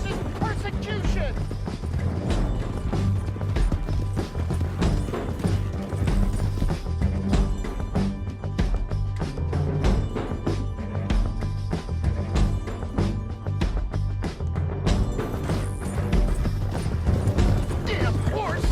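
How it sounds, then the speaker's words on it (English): Horse hooves gallop hard in Red Dead Redemption 2, a fast, loud, continuous drumming of hoofbeats with clatter and shouting voices mixed over the ride. "Damn horse!"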